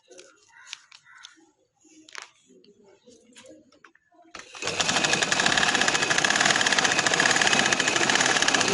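Sewing machine stitching black trouser fabric, starting after a stretch of quiet talk and small handling noises, then running loud and steady with a fast, even mechanical rattle to the end.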